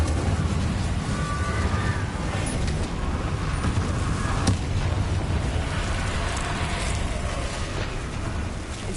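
Incendio fire spell cast in the Hogwarts Legacy game, a sustained roaring whoosh of flame with crackling bursts and one sharp pop near the middle, loud and continuous throughout.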